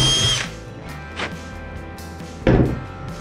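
A power drill whirs in short bursts, revving up and stopping, with a louder grinding spurt near the end as the bit bites into wood, drilling holes for drywall screws.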